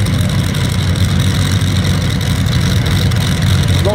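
A Rolls-Royce Griffon aircraft engine rated at 4000 hp, fitted in the Flash Power II, runs loud and close with a dense, continuous roar that holds steady throughout, with no talk.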